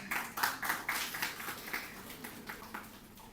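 Faint scattered clapping from a small audience at a felicitation ceremony, uneven and fairly distant, fading slightly toward the end.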